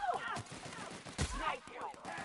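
Gunfire from a shooter video game, several quick bursts of shots with one heavier blast midway, mixed under game chatter and voices throughout.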